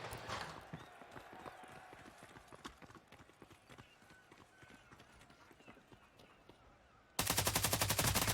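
Rapid bursts of gunfire from a competitive shooter game at a LAN event, sharp repeated cracks mixed with clattering footsteps, fairly quiet under a commentator's talk before a sudden loud burst at the end.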